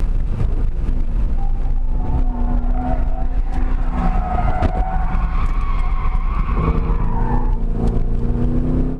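A C5 Corvette Z06 engine roars loudly and continuously on a race track, revving and dropping as it brakes, with tires squealing before the throttle opens up again.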